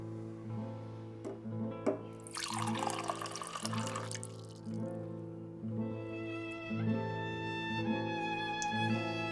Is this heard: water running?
yes